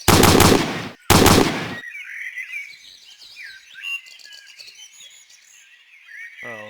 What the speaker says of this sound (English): Now it sounds like I'm shooting the Medal of Honor BAR.